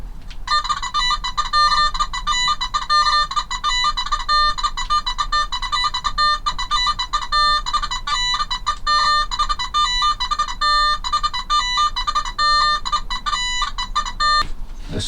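Nokta Simplex Ultra metal detector in 3-tone mode, giving a continuous run of bright, pulsing electronic tones with rapid on-off chirps, fairly loud and close with no talking.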